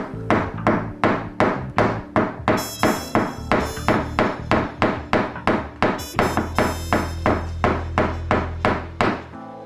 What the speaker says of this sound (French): De petits coups portés avec le manche d'un marteau suffisent à retendre la tôle et à l'ajuster par impacts successifs